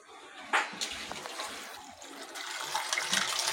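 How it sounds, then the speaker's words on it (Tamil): A pump sends water into a large new fish tank, making a steady splashing, rushing flow with a few louder gushes and no talking. "வாட்டர் போகுது."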